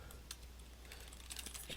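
Soft, quick keystrokes on a computer keyboard as a name is typed, a few faint scattered clicks over low background hum.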